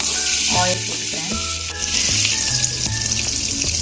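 Butter and oil sizzle loudly in a pan during a light sauté, with a steady hiss and crackle close by. Stirring clatters and scrapes punctuate the frying throughout.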